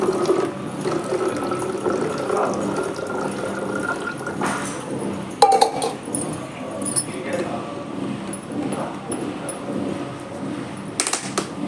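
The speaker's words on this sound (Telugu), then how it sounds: "కొంచెం వాటర్ పోయాలి దీంట్లో నార్మల్ ట్యాప్ వాటర్ అండి" Tap water being poured into a homemade fruit fly trap, a steady splashing trickle with some clinks of the container, while a person talks over it.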